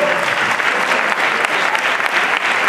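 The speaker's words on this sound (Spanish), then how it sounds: "un fuerte aplauso también para José Marrufo." A crowd applauds at an anniversary tribute event of a musical association in Utrera, loud continuous clapping from many hands filling the whole stretch.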